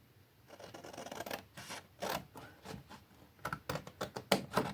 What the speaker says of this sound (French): On va venir découper la partie en haut.